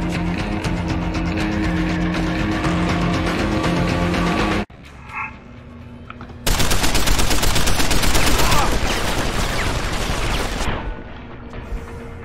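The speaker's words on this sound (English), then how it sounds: "his arm's a machine gun" Sustained automatic gunfire from Barrett's arm-mounted machine gun in Deus Ex: Human Revolution, loud and continuous, breaking off briefly before resuming in a denser, harsher burst with game music underneath.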